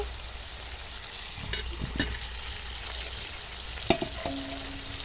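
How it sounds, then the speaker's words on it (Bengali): Pre-fried potatoes go into hot oil with chicken masala, setting off a steady close sizzle, with a few sharp clatters of utensil against the pan. "এবার আমি ভেজে রাখা আলুগুলো দিয়ে দেব।"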